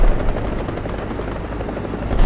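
Helicopter in the War Thunder tank battle game, a steady loud rotor chop with a continuous low whirring drone throughout, with no speech.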